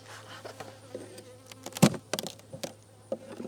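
Honeybees buzz around an open hive while a beekeeper checks a colony before winter, with scattered close buzzing passes, one loud fly-by near the middle and a low steady hum beneath.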